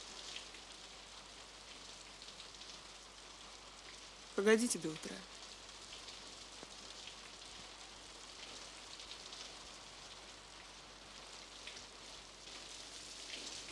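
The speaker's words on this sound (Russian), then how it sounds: "Дождь идет." Soft, steady rain patters in the background while a voice briefly speaks over it.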